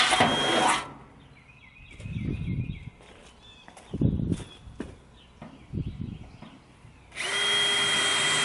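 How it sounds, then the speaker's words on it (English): A power drill whines loudly while boring into siding ends, stops, then starts again near the end, with scattered knocks and handling noises and short drilling bursts in between. "I'm trying to just drill on the one in from the end"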